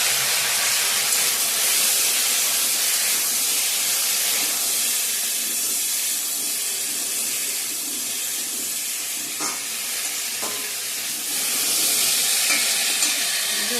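Potatoes and taro frying with onion, garlic, bay leaf, dried chillies, ginger and five-spice in hot oil give a loud, steady hiss and sizzle. It runs continuously and close, with a few faint clinks and no talk.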